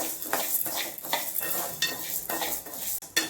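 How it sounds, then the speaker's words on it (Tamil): Toor dal dry-roasting in a pan gives repeated scraping stir strokes with a light crackle, close and fairly quiet, ending in a brief pause and one final scrape. "இதை வறுத்துக்கலாம். துவரம் பருப்பு இது நல்லா வறுத்துருக்கோம்."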